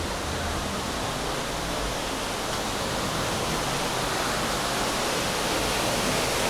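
Water splashing and rushing at Sun City, a steady, dense hiss like a waterfall or cascade that stays constant throughout with no break.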